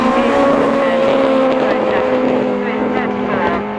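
Autograss race cars roar around a dirt track at St Neots, several loud engines overlapping with rising and falling pitch as they pass close by, while a commentator talks over the noise.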